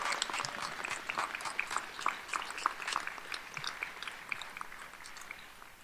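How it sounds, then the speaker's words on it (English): Faint, scattered clapping from graduates of a 2017 medical school commencement applauding their supporters, a steady patter of many hands heard from a distance. "please join me in a round of applause for your supporters"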